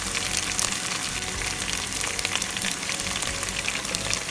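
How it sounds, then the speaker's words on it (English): Cumin seeds sizzle in hot oil in a pan, with a soft, continuous crackling hiss and small pops, fairly faint and steady. "Now I'm going to add some cumin seeds to the oil now."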